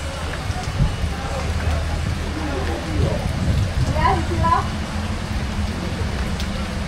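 Steady rain patter and broadband hiss fill the background while people talk quietly over it, outdoors at a hillside tourist spot near a chairlift.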